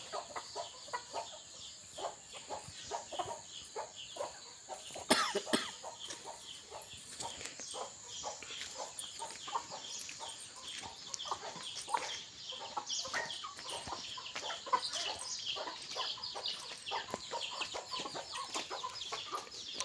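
Chickens cluck steadily while being fed grain, giving a dense, continuous run of short calls at moderate distance, with no talk over them.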